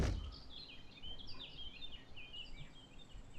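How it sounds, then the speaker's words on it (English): Birds in the game Wurm Online twitter in quick, high chirping phrases that repeat over a quiet outdoor ambience, light and slightly distant throughout. "Oh, but I want to hear the birds"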